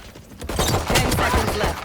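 A Killjoy swarm grenade in Valorant goes off, a rapid burst of popping, crackling detonations lasting over a second, fairly loud and close.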